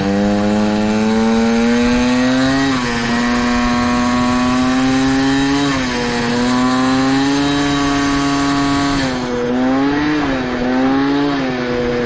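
A Peugeot 103 SPX moped with an SHA carburettor on the road, its small two-stroke engine buzzing loud and high-pitched throughout, revs rising and dipping with throttle changes, heard up close with no voices.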